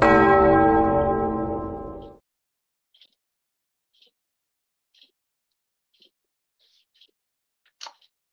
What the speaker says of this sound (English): the bell tells us that the processor's finished